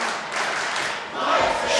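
A wrestling crowd at an MLP Wrestling Reena Rumble event cheers and shouts loudly, a dense roar of many voices that dips briefly and then swells again.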